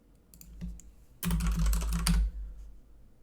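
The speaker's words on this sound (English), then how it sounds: "If I just type in Omar" A quick flurry of computer keyboard typing, a few faint taps and then a loud dense burst of keystrokes lasting about a second, heard up close.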